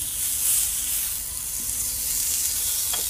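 Chicken sizzles in a grill pan just after being flipped, a close, steady crackling hiss of frying with a light clink near the end and no talk.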